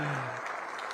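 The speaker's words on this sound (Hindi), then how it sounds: "हम सबकी तरफ से मिलकर सभी तालियां बजाएंगे" Short burst of audience applause at a swearing-in ceremony for newly elected BJP mayors in Haryana; steady, fairly faint clapping from a crowd, with a voice briefly at the start.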